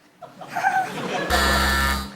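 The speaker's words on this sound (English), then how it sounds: "fingers on buzzers" On a TV quiz panel show, a flat electronic buzzer sounds for most of a second right after a brief burst of voices and laughter.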